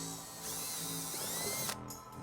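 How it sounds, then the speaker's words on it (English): A power drill with a 5/16-inch bit drills into a plastic car bumper fascia, whirring steadily for about a second and a half, a high-pitched grinding whine that cuts off abruptly. "using a 5/16 drill bit, we're gonna go ahead and drill a couple of small holes in the bumper fascia"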